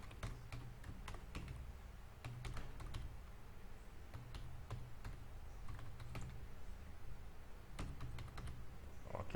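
Typing on a computer keyboard comes in quick, irregular bursts of light clicks and taps, close but fairly quiet, over a steady low hum.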